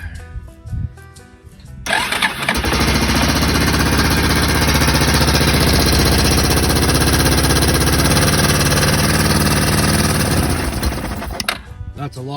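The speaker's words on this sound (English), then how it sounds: "I'm going to see if it'll fire up with just the gas that's still in the carb." A 2000 Yamaha Big Bear 350 ATV with freshly adjusted valves cranks and fires up on leftover carb fuel, then settles into a loud, rapid, steady idle close by for about ten seconds before shutting off.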